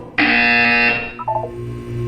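A loud electronic buzzer in the video game Portal 2 blares for about a second, harsh and steady, then gives way to a short chirpy electronic tone sequence over a faint hum.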